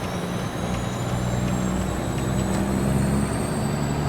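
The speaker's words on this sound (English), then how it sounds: "It's a Peterbilt 389 mod." Peterbilt 389 truck engine in a trucking simulator, a steady low diesel rumble with a faint rising whine, continuous and close, with no talking.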